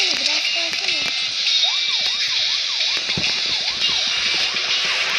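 A police car siren in a video game wails, sweeping up and down repeatedly over a bright, busy electronic backdrop, looping steadily like a game soundtrack.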